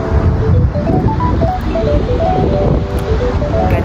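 Steady roar of ocean surf with wind buffeting the microphone, loud and continuous throughout, no voices.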